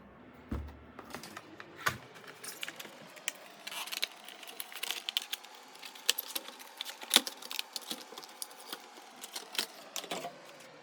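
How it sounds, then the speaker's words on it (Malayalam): Close, quiet crinkling and clicking as the packaging of a Majorette Nissan diecast car is opened, with small irregular taps and rustles scattered throughout. "നമുക്കിനി പാക്കൊന്ന് ഓപ്പൺ ചെയ്ത് നോക്കാം."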